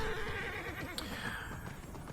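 A horse neighs in the video game Immortals: Fenyx Rising while its hooves beat a steady galloping rhythm, over a dense layer of in-game ambience.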